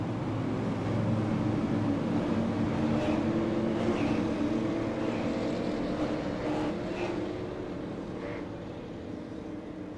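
Pack of about eleven super late model race cars circling a track at pacing speed, a steady broad engine drone rising and falling as the field rolls around, fairly distant and continuous.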